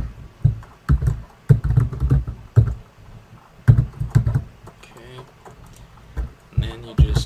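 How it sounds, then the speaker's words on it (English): Clustered clicking keystrokes on a computer keyboard as a password is entered, coming in quick bursts with short pauses, close and clear, with some quiet talk mixed in. "Type in an email."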